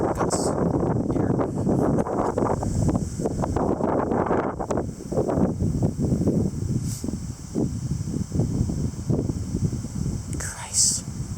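Strong gusting wind in rainy weather buffets the microphone with a steady roar and rustle throughout, while a person talks over it.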